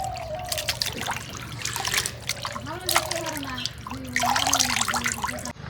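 Tap water trickles and splashes as chicken feet are washed in a sink, a steady close running stream with small splatters, while someone talks over it throughout.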